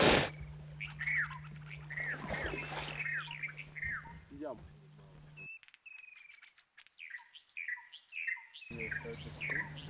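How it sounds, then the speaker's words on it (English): Many birds chirp and call along an Okavango River bank in the wild, with overlapping tweets and trills, some near and some farther off, over a steady low hum, and the calls continue alone during a brief quieter stretch. "this riverbank was like a living encyclopedia of bird life"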